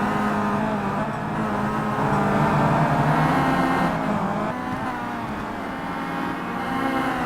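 A pack of 2011 WTCC touring cars, including a Chevrolet, racing in the Simraceway sim racing game: continuous loud engine roar and droning revs, a dense blended mass of cars close by throughout.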